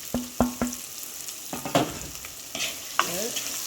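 Green chilies and curry leaves drop into hot oil in a pan, giving a few sharp sputtering bursts followed by stirring scrapes and a light crackling sizzle, up close with no talk.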